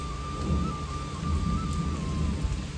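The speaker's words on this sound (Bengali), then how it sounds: "মেঘ ডাকার আওয়াজটা শোনো।" Low, rolling rumble of thunder beneath steady rain, heard from a balcony, with a faint constant tone running through; no voices.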